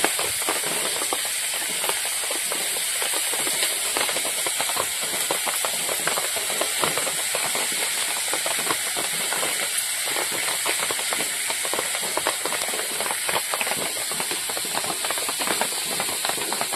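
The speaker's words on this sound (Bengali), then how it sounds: "মাথা ভাজা হচ্ছে।" Hilsa fish head sizzles in hot oil in a frying pan, a steady loud hiss and crackle that continues without a break, close up and with no voices.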